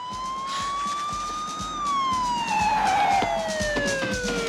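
A police car siren wails in a 1994 action film, its pitch rising and then falling in a long sweep, loud and close over rumbling traffic, with no voices.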